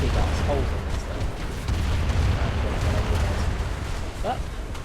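Naval gunfire from warships in War Thunder, fired at roughly a kilometre and a half, heavy low booms rolling under constant engine and battle rumble, with someone talking over it.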